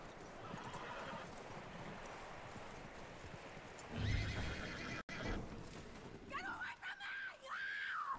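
Horse neighing and whinnying in the Red Dead Redemption 2 video game, with hoof clip-clops nearby over a steady outdoor ambience and a loud whinny toward the end.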